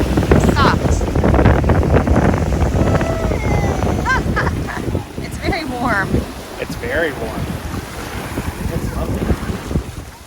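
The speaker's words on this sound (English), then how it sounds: "we experienced these waves that were just the result of the strong wind gusts that day" Strong wind gusts buffet the microphone while waves wash and splash along the Dead Sea shore, loud and close, with people talking and children's voices heard over the roar.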